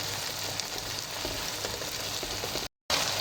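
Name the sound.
chili paste and tomatoes frying in a pan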